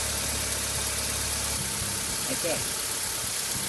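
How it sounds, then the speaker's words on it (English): A Holden Barina car engine idles with a steady low rumble during cooling system flushing, then cuts off partway through, leaving a faint hum while someone briefly speaks. "So now we can turn off the engine."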